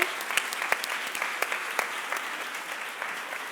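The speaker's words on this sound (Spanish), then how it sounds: "Un aplauso para Antonio Garamendi." An audience applauds Antonio Garamendi at a talk on Spain's digital transformation, a steady, moderately distant patter of many hands with a few sharper individual claps standing out, and no talking over it.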